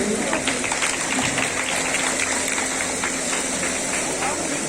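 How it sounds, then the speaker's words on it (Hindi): A crowd claps for performing school children at a school cultural event, dense continuous applause at a fairly loud level, with murmured voices and a low hum underneath. "मैं चाहूँगा कि आप यहाँ तालियां बजा दें जोर से"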